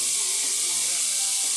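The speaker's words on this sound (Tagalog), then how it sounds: "Gigisa natin sa patis ang ating manok." Chicken sautéing in fish sauce for a chicken curry, a continuous bright sizzle and hiss heard up close, steady and loud throughout the short moment.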